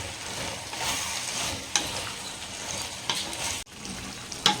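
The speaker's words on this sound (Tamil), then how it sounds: "நல்லா எண்ணெயிலே வதங்கட்டோங்க பச்சை மிளகாய்." Green chillies frying in oil for a chilli pickle, giving a steady close sizzle with occasional stirring scrapes and a couple of sharp utensil knocks, with no voices.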